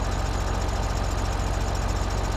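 Tractor engine idling in Farming Simulator 2013: a steady, loud, close low rumble with even rhythmic pulsing throughout, no talk.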